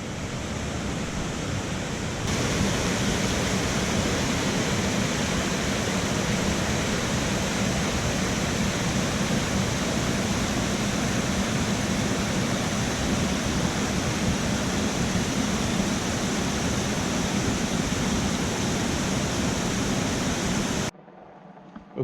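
Glen Falls, a trailside waterfall in Western North Carolina, roars as a dense, steady rush of falling water, loud and close, swelling slightly after the first moments and continuing unbroken until it cuts off.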